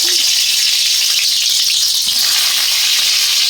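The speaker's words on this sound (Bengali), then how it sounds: "তিনটে দিচ্ছি, তিনটে আগে ভেজে নেবো।" Pointed gourd pieces fry in hot mustard oil with a loud, continuous, close sizzle that stays dense and even throughout.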